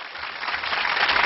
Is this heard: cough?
no